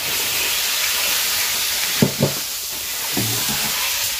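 Steady, close sizzling of freshly caught fish frying in a pan at night, with a few soft clinks of a utensil stirring partway through.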